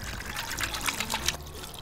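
Water is poured into a pot with bones, beef, ginger and onion for Vietnamese pho broth, giving a faint, brief trickling splash throughout.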